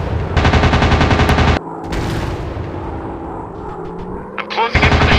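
Rapid bursts of WW2 warplane machine-gun fire from a mobile combat flight game, loud and close, with a pause between volleys over a droning engine and a short whooshing sweep before firing resumes.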